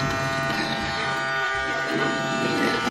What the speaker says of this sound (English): This vacuum cleaner is supposed to also clean floors,